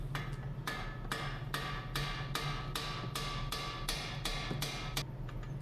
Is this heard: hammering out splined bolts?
yes